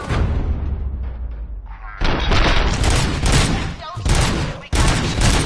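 Dense, loud bursts of gunfire in the RoboCop video game, rapid shots in clustered volleys with brief gaps, dominating the mix.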